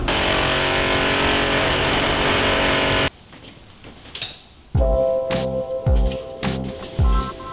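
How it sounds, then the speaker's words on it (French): Jackhammer at a construction site, heard first as a loud continuous rattling burst for about three seconds, then after a pause as a series of short, heavy pounding strikes with metallic impacts. "On va avoir des soucis pour continuer le tournage à cause de la disqueuse et cet après-midi sera le marteau piqueur"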